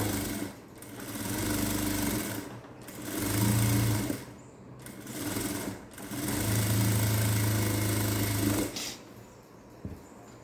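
A sewing machine runs in several bursts of rapid, whirring stitching on a princess cut blouse with a double stitch. The bursts are separated by brief pauses, the machine is close and fairly loud, and no voices are heard.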